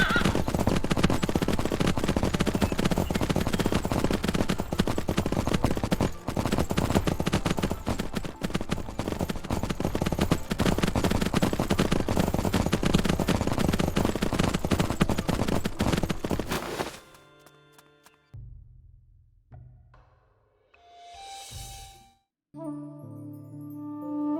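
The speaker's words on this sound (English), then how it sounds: "We should be able to summon our horse. Yep. Oh, she has a horse too. And we can just ride back." A horse gallops in the Three Kingdoms Zhao Yun video game, a dense, loud, continuous drumming of hooves that runs steadily, then cuts off abruptly, followed by sparse game interface sounds.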